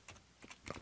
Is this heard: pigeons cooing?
no